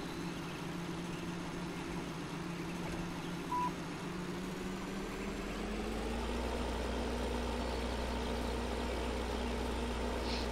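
Steady tractor engine hum in Farming Simulator 13 while baling straw with dual wheels, a constant mid-level drone that deepens and grows slightly heavier partway through, with no speech.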